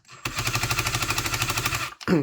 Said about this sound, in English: the drill bit chuck will start slipping like a clutch mechanism